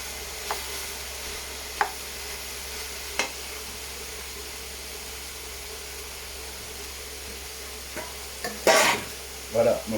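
Red cabbage being stirred and wilted down in a pan, a faint steady sizzle with occasional spoon scrapes and clinks, growing busier near the end.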